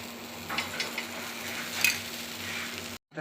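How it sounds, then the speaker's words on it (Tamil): Wheat dosa frying lightly in oil on a pan after being flipped, giving a steady soft sizzle with faint crackles and small scraping touches near the pan, then cutting off abruptly at the end. "தோசை மாற்றி போட்டேன் வறுத்து லைட்டாக எண்ணெய்"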